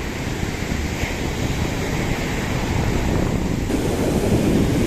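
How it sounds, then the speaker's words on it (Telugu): Ocean waves breaking on Bheemili beach, a continuous, loud roar of surf with heavy wind rumble against the microphone and no voices. "చూడండి సాగర ఘోష ఎంత అద్భుతంగా ఉన్నాయో"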